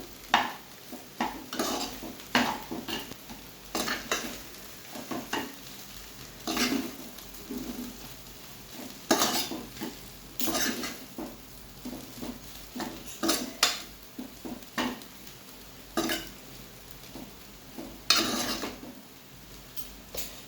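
Fried rice getting mixed with salt in a pan, utensil scraping and clinking against the pan in irregular bursts over a faint sizzle, close and fairly loud.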